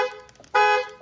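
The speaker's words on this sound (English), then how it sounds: "Push it twice, you have the lock horn. And the alarm." Horn of a 2022 Ford Bronco Sport triggered by the key fob, a short honk sounding in the middle of brief alarm tones, loud and nearby with no talking.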